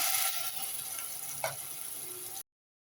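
Ground paste goes into a hot pan with cumin and asafoetida for a paneer gravy, giving a faint, steady sizzling hiss with one brief louder splutter partway through before it cuts off.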